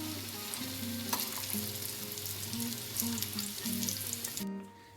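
Koftas deep frying in hot oil give a dense, steady close-up sizzle and crackle that holds throughout, with no voices, then drops away abruptly at the very end.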